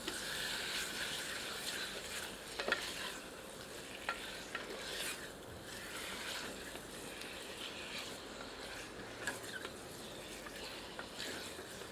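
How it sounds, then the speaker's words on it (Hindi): Goat meat is sautéed with onions and other ingredients over medium heat for saag gosht, giving a soft continuous sizzle with frequent scraping and clicking stirs throughout. "इसे प्याज तथा अन्य सामग्रियों के साथ मिलाकर 2 मिनट मीडियम आंच पर भूनते हैं।"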